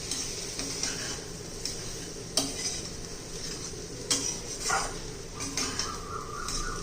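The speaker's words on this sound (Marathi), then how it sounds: "आता आपण बारीक केलेली चपाती घालू. छान असं मिक्स करून घ्यायचे." Crumbled leftover chapati being stirred in a pan, giving steady scraping and clinking of a metal spoon against the pan with a few sharper clacks, close and moderately quiet, with no talking.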